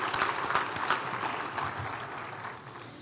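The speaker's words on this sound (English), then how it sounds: "can we give all of our nominees a round of applause?" Audience applause for award nominees at the Regional Chamber ATHENA Award 2024 ceremony, a steady, fairly faint patter of many hands clapping that slowly tapers off over three seconds, with no one speaking.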